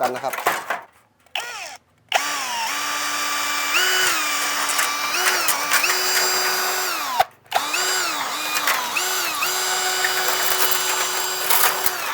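A cordless drill fitted with a DURABIL YT-160AS metal cutter attachment whines steadily while slicing through zinc sheet, motor pitch rising and dipping, with brief pauses between cuts.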